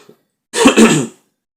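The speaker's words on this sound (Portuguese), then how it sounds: "Perdão mais uma vez pela tosse." A single short, throaty cough or throat-clearing, close and fairly loud, then silence.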